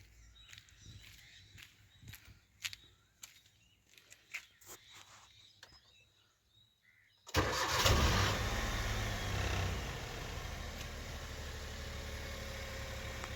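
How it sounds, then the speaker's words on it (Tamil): After faint clicks and small knocks, a Maruti WagonR VXI car engine cranks and catches with a roar, then settles into a steady, even idle. "வண்டி ஸ்டார்ட் பண்ணி பார்க்கலாங்க"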